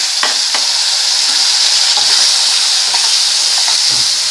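Mango pieces go into a pan with fried shol fish and cumin, giving a loud, close, continuous sizzling hiss with light stirring taps scattered through it.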